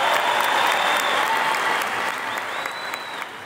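Large crowd applauding at a two-day business event in an indoor arena, a dense, steady roar of clapping that holds loud throughout, with a faint tonal sweep audible beneath.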